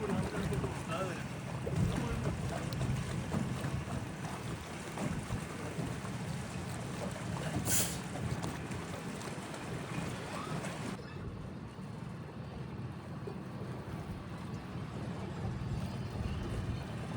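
A boat motors along the Kerala backwaters at Alleppey, a steady low engine drone mixed with water wash and wind noise across the whole stretch, with faint voices underneath.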